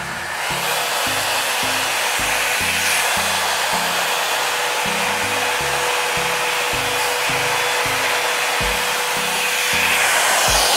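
A Revlon hot air brush dryer blows with a loud, constant roar while styling hair, with soft rhythmic low thumps beneath the airflow and no talking.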